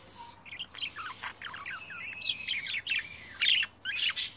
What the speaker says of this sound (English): You can see he's talking to the other birds.